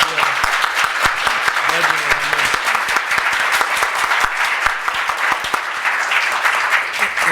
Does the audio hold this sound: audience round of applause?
yes